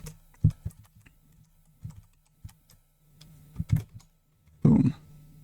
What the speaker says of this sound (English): And then we're gonna get to some typing.